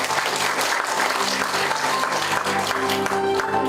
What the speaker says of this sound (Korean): 한 분 한 분 소개할 때 큰 박수 부탁드립니다.